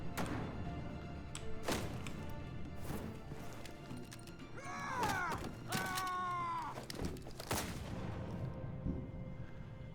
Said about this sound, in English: There's still people with fireworks setting them off